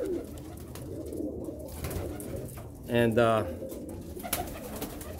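A pigeon gives a short, resonant coo in a quiet loft, with faint rustling and a brief spoken word nearby.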